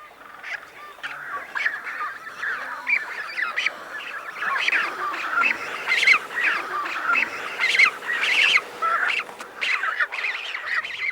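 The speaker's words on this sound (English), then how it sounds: "imperial shags" Imperial shags calling at a sub-Antarctic cliff-top nesting colony, a dense chorus of harsh honking and croaking calls from many birds, steady and overlapping at moderate distance.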